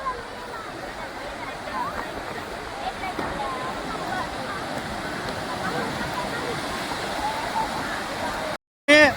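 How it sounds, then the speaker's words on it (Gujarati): Sea waves wash steadily onto Shivrajpur beach near Dwarka, a continuous broad roar of surf with people talking over it, ending in a brief cut. "શિવરાજપુર બીચ. સારો સમુદ્ર એમ કહેવાય."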